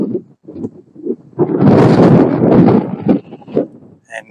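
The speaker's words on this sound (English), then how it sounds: "If we're getting gushes of wind, which is really windy, guys." Strong gusts of wind buffet and roar across the microphone in rough bursts on a mining trail in Kapunda, South Australia, loudest in the middle stretch, with quieter flutters before and after.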